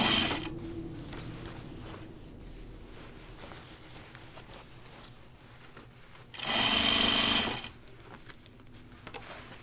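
A sewing machine stitches across a jeans seam for the Ginger Jeans pattern, with a quiet whirr near the start and then one louder, steady run of stitching lasting about a second near the end. No one speaks.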